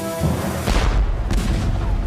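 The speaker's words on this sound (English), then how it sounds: "Though the cannonballs were made of leather, the cannon were real." Real cannon firing in a historical war game reenactment, a loud deep boom with a crackling rolling blast and a lingering rumble that fades over a couple of seconds, with no talking.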